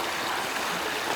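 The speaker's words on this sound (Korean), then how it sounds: "솔바람 소리 좋고 물소리 좋다 그죠?" Stream water flows steadily through a pine forest valley, a smooth, even broadband rush heard alone at moderate level.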